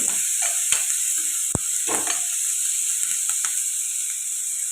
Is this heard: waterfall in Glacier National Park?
no